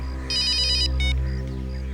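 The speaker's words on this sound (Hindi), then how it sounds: "अभिजीत का फोन है।" A phone ringtone rings out in an indoor police office setting, a bright electronic melody repeating in two short bursts over a low steady hum, with no talk during it.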